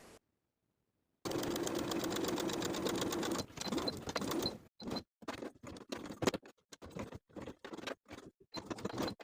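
A sewing machine stitches the fly seam of high-waisted A-line shorts, first in a long steady run, then in short stop-start bursts with brief pauses for backstitching, close and alone.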